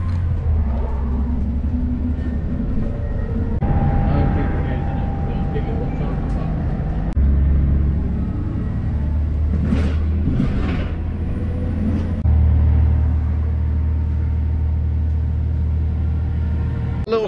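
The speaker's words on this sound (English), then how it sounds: "We're on the bus to Portland." A bus travelling toward Portland on the Isle of Portland in Dorset gives a steady low engine rumble and road noise, with loudness shifting as it moves, while people talk over it.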